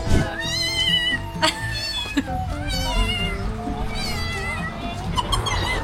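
A person, apparently a child, imitates a cat with a run of drawn-out, wavering meows, loud and close, with some background chatter and noise underneath.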